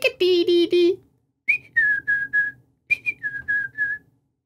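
A human voice imitates the black-capped chickadee's song twice, giving a few quick buzzy notes followed by clear whistled 'dee' tones in a tidy, evenly spaced series.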